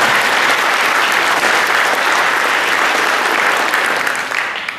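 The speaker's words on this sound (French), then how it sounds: "On peut les applaudir." Audience applause in an exhibition centre after a political opening speech, loud dense clapping from a crowd that holds steady for a few seconds and then begins to fade.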